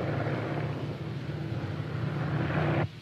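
An airplane drones steadily overhead as it circles waiting to land, a continuous low engine rumble that cuts off abruptly near the end.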